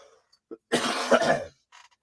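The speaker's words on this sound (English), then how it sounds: "I have to cough one more time." A man coughs once, a single harsh, forceful burst lasting under a second. A faint throaty catch comes just before it and a short breathy rasp follows.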